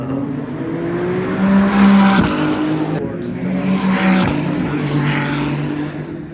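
Formula 1 car at the Las Vegas Grand Prix braking late at the slowest corner; high engine whine drops in pitch as the car slows and passes, under crowd noise and commentators talking.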